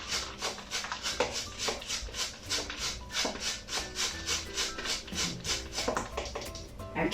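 Whole cauliflower grated by hand on the coarse side of a box grater, a steady rhythmic rasping of quick repeated strokes, close and continuous.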